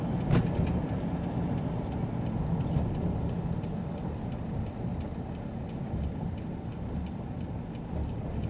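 A pickup truck engine rumbles steadily as it pulls uphill through a U-turn on a driving lesson, a continuous low drone heard from inside the cab, with faint rattles and no talking.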